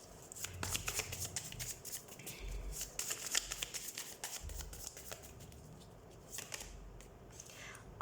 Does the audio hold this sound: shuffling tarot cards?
yes